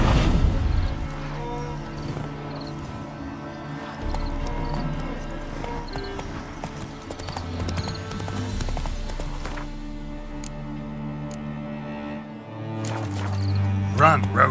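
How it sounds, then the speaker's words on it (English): Horse hoofbeats clip-clop over a steady musical score in The Witcher 3: Wild Hunt, with a snort or whinny mixed in; game-style effects and music stay loud throughout. "Spooking my horse."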